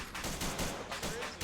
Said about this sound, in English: Hey, mortars are up, amazing.